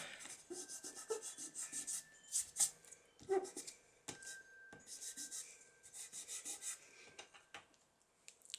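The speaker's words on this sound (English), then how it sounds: "let's just rub that in" Ink or pigment rubbed into paper for a Christmas ephemera craft piece, a close, soft scrubbing rasp that comes in repeated short strokes with brief pauses and no talk.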